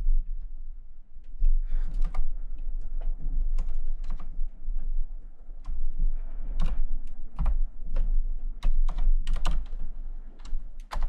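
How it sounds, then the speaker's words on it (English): A password is typed on a computer keyboard in quick, uneven bursts of clacking keystrokes, close and clear, with short pauses between the runs. "Hold on, typing this right."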